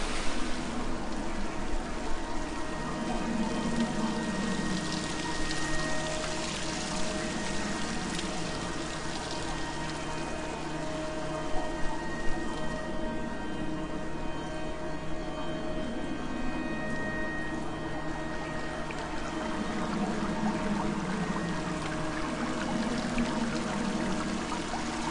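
Continuous watery pouring and sloshing from swimming through water in the Dear Esther game, steady and fairly soft throughout with a faint tonal ambient hum beneath, no talking.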